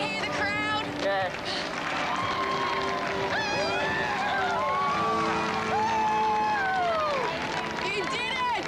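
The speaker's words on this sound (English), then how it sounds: "Can you hear the crowd?" A distant crowd cheers and applauds beneath shouting, with voices calling out excitedly over a continuous roar of cheering and clapping.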